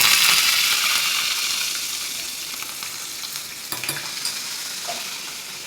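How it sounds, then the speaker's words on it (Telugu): Curry leaves and a pinch of asafoetida dropped into hot tempering oil for a cucumber roti pachadi give a loud, close, crackling sizzle that slowly quietens, with a few stirring clinks near the end. "కరివేపాకు వేసి పోపు పెట్టుకోవాలి"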